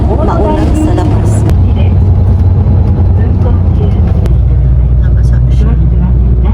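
Steady low engine rumble and road noise inside a moving bus in Japan on a rainy day, continuous and close, with faint voices mixed in.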